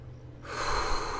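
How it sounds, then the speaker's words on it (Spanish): Animatronic breathing from the horror game Five Nights at Freddy's 4: a short, close, airy hiss that swells in after a near-silent start and holds steadily for under a second. "Respiración, lo escucho, escucho la respiración."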